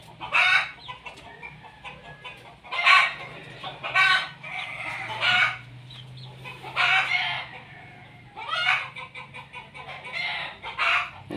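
Chickens cluck in a backyard coop, close and lively, with repeated bursts of clucking and squawking rising and falling over several seconds and a rooster crowing among them.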